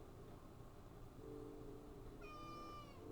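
In the game Coffee Talk, a cat gives one faint, drawn-out meow near the end, over a quiet low background hum.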